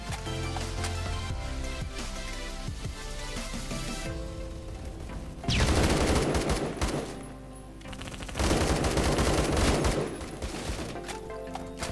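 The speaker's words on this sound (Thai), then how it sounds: "มันมีคนใช้ปืนกลหนักนะฮะ ซึ่งไฟเรดมันสูงมาก" Heavy machine gun fire in Roblox Phantom Forces: loud sustained bursts of rapid automatic shots, broken by a brief lull in the middle before another long burst, with game music and effects beneath.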